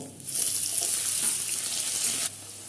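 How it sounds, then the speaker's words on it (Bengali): Pumpkin pieces fry lightly in hot oil, giving a steady hissing sizzle that swells early, holds evenly, then drops off abruptly near the end. "কুমড়োগুলোকেও একটু জাস্ট হালকা করে ভেজে নিলাম"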